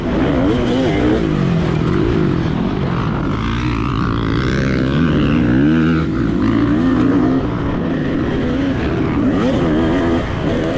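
A dirt bike engine revs and winds through gears at Table Rock Dirt Park, a loud, continuous snarl with rising and falling pitch sweeps as the bike passes near.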